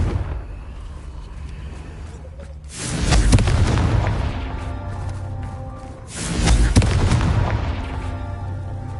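Two heavy booming explosions from the Confringo fire spell in Hogwarts Legacy, each a loud sustained rumbling blast a few seconds apart.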